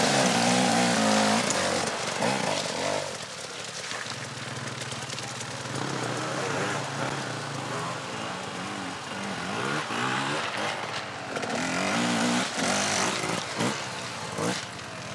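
A Husqvarna 450 four-stroke dirt bike engine labours on a rough mountain enduro course, a steady buzzing drone with shifting revs under continuous commentary.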